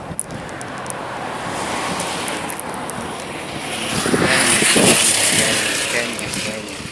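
Ocean surf washes steadily onto a beach in Mombasa County, Kenya, a broad, loud rushing roar that swells midway, with a voice speaking over it.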